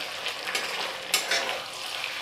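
Local chicken curry sizzles and fries over a high flame while being stirred in a pan, with steady close frying hiss and scraping stirs throughout.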